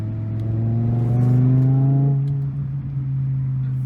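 A 2007 BMW M6 with a manual gearbox and V10 engine revs hard while accelerating, its rising engine tone climbing steadily before easing off into a lower steady drone, close and loud with no talk.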